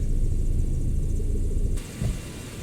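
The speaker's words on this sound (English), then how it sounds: "Brakes not very good on this tug." An airport baggage tug in the AirportSim game drives along with a steady low engine rumble and road noise, dipping briefly then continuing without talk.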